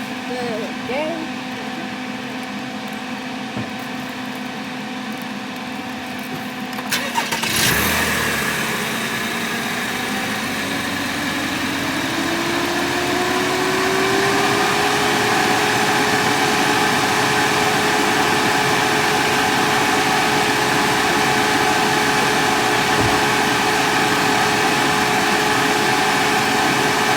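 A 2017 Camaro engine cranks with a sharp burst, then its pitch climbs and settles into a steady, loud running idle that fills the rest of the clip after a quieter background hum.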